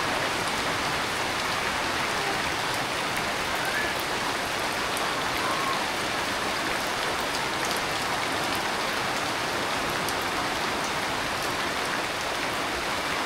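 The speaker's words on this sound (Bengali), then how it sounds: "রাতের বেলা বৃষ্টি শুরু।" Steady, even night rainfall patters down without pause, a dense hiss of drops on surfaces throughout.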